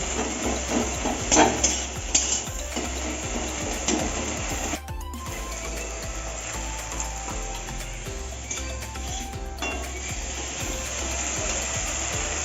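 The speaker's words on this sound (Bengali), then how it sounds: "পাট শাকগুলোকে দেওয়ার পরে ভালো করে সেটাকে ভাজতে হবে" Jute leaves frying in a wok give a steady sizzling hiss throughout, with soft stirring scrapes and occasional clinks near the start, close and alone without talk.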